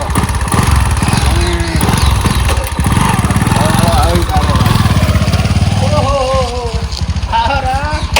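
A motorcycle engine runs close by with a loud, steady throbbing idle and a few slight revs, while several people talk over it throughout.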